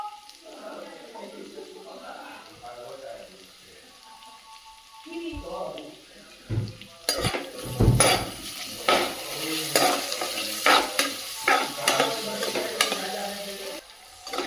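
Potatoes fry in a pan with turmeric and salt, a soft sizzle at first, then louder scraping and stirring strokes over the sizzle, with a voice talking at times.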